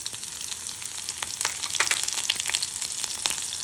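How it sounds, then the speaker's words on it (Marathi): Cumin, mustard seeds and chili sizzling in hot oil for a Maharashtrian karela sabji, a dense, bright crackle with sharp popping bursts, close and steady with no talking. "तापल्यानंतर आपण त्यात टाकणार आहे थोडं जिरं, मोहरी,"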